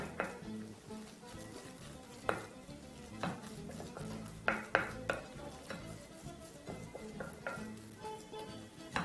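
Vietnamese dumpling filling seasoned with salt and ground black pepper is mixed by hand in a bowl, giving soft wet squelching with irregular sharper knocks and scrapes at close range.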